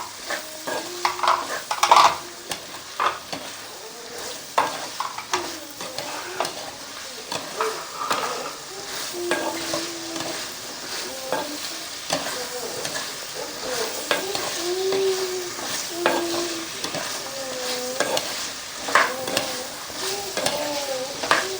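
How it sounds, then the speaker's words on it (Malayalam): Chicken curry with potatoes gets stirred in a sizzling pan, the spoon scraping and clinking steadily at close range, with a little faint talk underneath. "എല്ലാം കൂടെ ചേർത്തൊന്ന് ഇളക്കാം"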